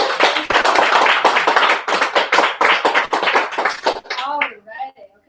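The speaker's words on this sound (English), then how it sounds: "Please give Stacey a round of applause." Close, loud clapping at a women's business launch event, a burst of sharp irregular hand claps for about four seconds that stops abruptly, followed by a voice talking.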